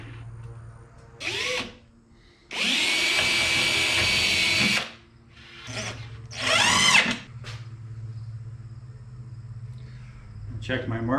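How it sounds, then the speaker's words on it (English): A power drill bores a hole through the cross piece of a Matthias Wandel-style workbench, with short trigger bursts and one sustained drilling run of a few seconds, close and loud, while a person talks between bursts. "Everything was nicely lined up before I drilled that hole."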